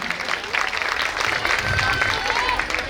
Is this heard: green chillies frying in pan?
no